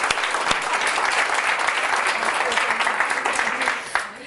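A studio audience applauds steadily throughout, a dense, loud, even clatter of many hands that tapers slightly near the end.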